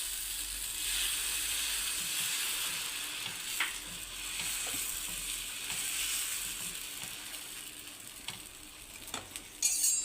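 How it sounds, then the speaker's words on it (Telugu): Black-eyed pea dosa batter frying on a hot pan, a steady close sizzle and hiss running throughout with a few faint scrapes and clinks. "ఇప్పుడు కొద్దిగా పిండి వేసుకొని మనము అట్టు వేసుకుందామండి"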